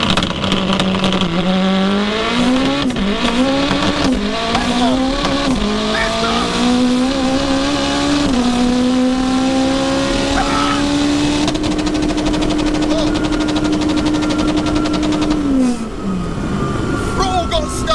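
Race car with its throttle stuck wide open, engine screaming at full power through rising gear changes into a long sustained high-revving roar with tyre noise, then cutting off sharply; a voice can be heard under the engine.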